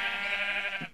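A sheep in a video game bleats once in a steady, drawn-out, nasal call lasting about a second, clear and alone at moderate volume.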